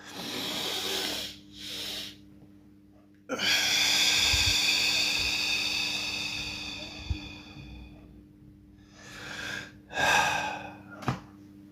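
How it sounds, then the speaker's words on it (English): A person takes several deep breaths close to the microphone, long hissing inhales and exhales separated by pauses, loud and breathy with a couple of short snorts and no talking. "Take a deep breath"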